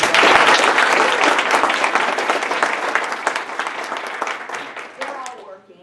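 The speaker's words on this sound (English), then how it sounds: "Let's give them a round of applause." A large audience at a history conference's opening address breaks into loud, close applause that starts full, gradually thins and fades out over several seconds, with a voice briefly audible near the end.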